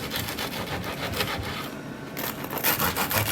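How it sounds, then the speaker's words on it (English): A serrated knife saws through a loaf of Marmite bread in rapid, rhythmic rasping strokes, close and fairly loud, pausing briefly before sawing resumes, with no talking. "Must have a serrated knife for this."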